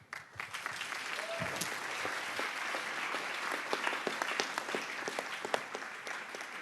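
Sustained applause from an audience at a youth summit event, dense steady clapping with occasional sharper claps standing out, continuing evenly throughout at moderate distance.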